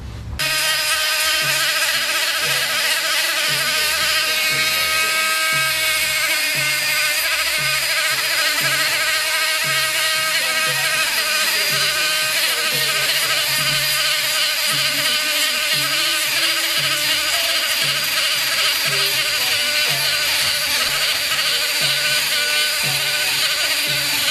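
Rotary tool fitted with a small sanding drum, sanding a workpiece with a loud, steady high-pitched whine and grinding buzz held close for the whole stretch, with slight fluctuations as pressure changes.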